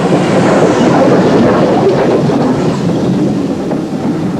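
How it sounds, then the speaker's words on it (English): A steam train on the Wye Valley railway in 1959, probably a Collett 1400 auto tank or a pannier tank, gives a loud, continuous rumbling roar of a train passing close by. "The standard locomotives on the Wye Valley lines were the Collett 1400 auto tanks and the familiar pannier tanks on the Chepstow line"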